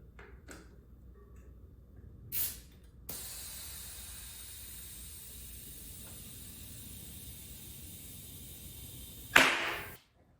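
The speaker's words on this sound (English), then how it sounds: "I will just grab my air compressor here and we will hook this up" Air compressor inflating a tubeless mountain bike tire, a steady loud hiss of air running for several seconds after brief clicks of hooking up the hose, ending in a sharp louder burst.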